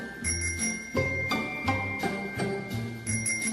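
A little bike bell is rung over and over in a studio, producing a series of crisp metallic dings spaced about every half second, near and clear.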